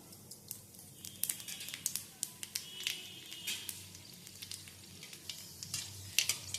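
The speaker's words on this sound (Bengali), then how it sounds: "শুকনো লঙ্কাটাকে একটু ভাজা ভাজা করে নেবো" Whole dry red chilies and nigella seeds fry in oil in a wok with a quiet sizzle, broken by sharp intermittent pops and crackles, close up.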